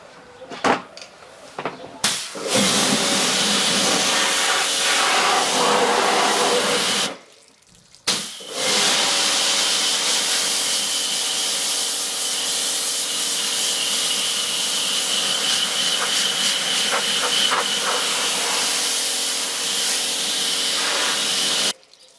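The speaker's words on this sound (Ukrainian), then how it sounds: "Важка артилерія це у нас міні-мийка Кархер" A Kärcher mini pressure washer with a spray nozzle blasts a grill in a loud steady hiss of water jet, starting with a few short bursts, cutting out briefly midway, then running continuously to the end.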